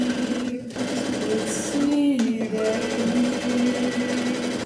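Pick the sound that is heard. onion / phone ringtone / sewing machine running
sewing machine running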